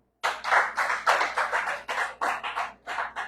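A church congregation at a teaching session bursts into clapping, a short run of loud rhythmic handclaps in bursts of roughly two per second.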